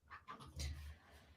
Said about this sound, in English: Sorry about the dog back here.